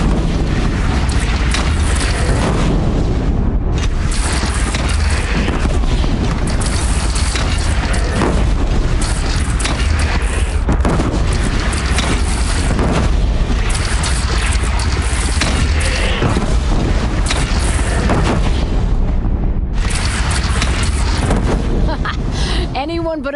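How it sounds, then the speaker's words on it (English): Cannon fire in the video game Horizon Zero Dawn: heavy booms repeat through a loud, dense battle soundscape, mixed with voices and other combat noise. "They only have one cannon!"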